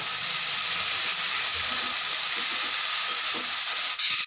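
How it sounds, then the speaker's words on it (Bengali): Vegetables for khichuri sauté in a hot pan, a loud, steady sizzle and hiss held close up with faint stirring scrapes underneath, then cutting off abruptly near the end. "এখন আমি বাকি সবজিগুলো দিয়ে আরও কিছুক্ষণ কষিয়ে নেব।"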